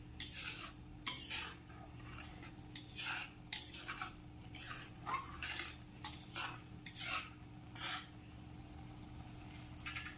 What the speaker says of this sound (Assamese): আৰু সকলোখিনি এনেকৈ মিক্স কৰি দিব।